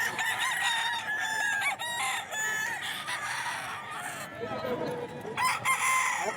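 Several roosters crow at a gamecock market in Bocaue, overlapping loud calls with clucking and a few voices of people in the background.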